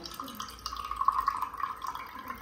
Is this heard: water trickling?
yes